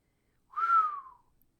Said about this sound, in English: he gave a soft, long whistle